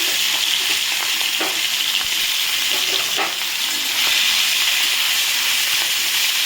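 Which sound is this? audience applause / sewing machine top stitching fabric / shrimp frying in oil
shrimp frying in oil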